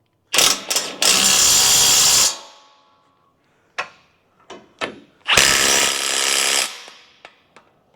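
A power tool runs in loud, close bursts to tighten bolts on the front differential of a Toyota Hilux N70. Two long whirring bursts are split by a pause with sharp metallic clicks and taps.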